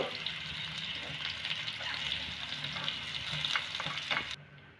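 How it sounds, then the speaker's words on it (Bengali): Pointed gourd (potol) fries in oil with a steady, close crackling sizzle, then cuts off abruptly at the end. "ওই তেলে পটলগুলোকেও ভেজে নেব।"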